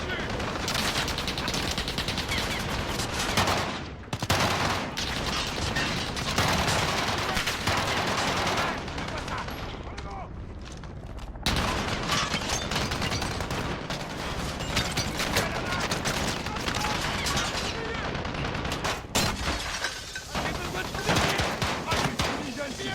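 Machine gun fire in the video game Call of Duty Modern Warfare, with dense bursts of loud gunfire and explosions, a brief lull midway, and voices talking over the battle.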